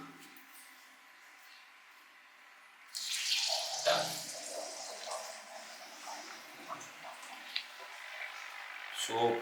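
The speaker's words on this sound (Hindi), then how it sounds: "फटाफट जाके पानी फिल करना चालू करते हैं।" A tap is turned on to refill a discus fish aquarium: after a few quiet seconds the water bursts in with a loud splashing gush that carries on unevenly, with a voice speaking briefly.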